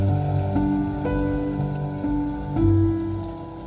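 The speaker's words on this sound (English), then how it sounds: "We have rainy day." A Hyundai IONIQ 6 N's infotainment system plays a rainy-day nature sound inside the car, a soft, steady patter of rain with faint low chimes beneath it and no talking.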